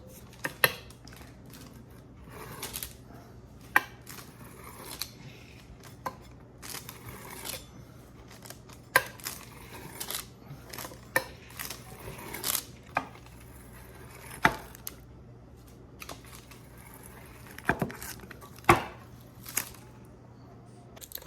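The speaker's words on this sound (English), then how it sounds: "just going to use a pizza cutter and cut the dough into strips and squares to make cracker shapes" A pizza cutter rolls and presses through sourdough cheesy cracker dough, slicing it into strips and squares, giving scattered soft thuds and sharp taps against the pan at an irregular pace in a quiet kitchen.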